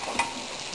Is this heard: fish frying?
yes